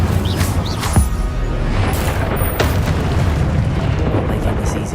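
A fiery spell blast in the Hogwarts Legacy video game, a deep booming burst over dense, continuous low rumble, with other spell effects crackling through the steady, loud mix and a voice heard briefly.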